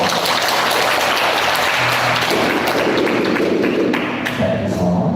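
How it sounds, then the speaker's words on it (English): Yoga class applause: a dense, continuous round of clapping from a group in a studio, loud and close, holding steady for about five seconds with a few faint voices underneath. "One more time, let's give a round of applause."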